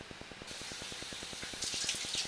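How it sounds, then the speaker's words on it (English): Laundry tub faucet running steadily during a sewer camera inspection, a close, constant rush of water with a quick regular ticking pulse beneath it, growing slightly louder and brighter toward the end. "Currently have the laundry tub faucet on"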